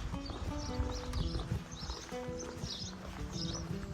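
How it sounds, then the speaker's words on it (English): Mule hooves clop unevenly on a hard surface close by, a loose irregular rhythm with faint animal snorts and rustling around them. "Hey, mules."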